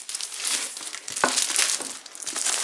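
Plastic packaging from a 2019 13-inch MacBook Pro box is ripped out and crinkled up close, giving bursts of crackling and tearing with brief pauses between them.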